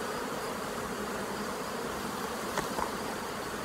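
Honey bees hum in a dense, continuous buzz close around an open hive during queen grafting, with a couple of faint handling clicks and no talk.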